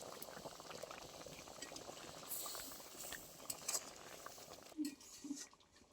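A pot of masoor dal and shrimp curry bubbles steadily at a rolling boil, close and continuous, with a few light utensil clinks near the end as the bubbling quiets.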